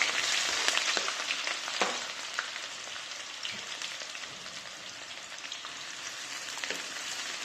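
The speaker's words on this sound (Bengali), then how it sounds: "পেঁয়াজকে হালকা বাদামি কালার হওয়া পর্যন্ত ভাজবো।" Onions frying in oil in a pan for a hilsa fish curry with potatoes and beans, giving a steady close sizzle with occasional crackles and stirring clicks, no voices.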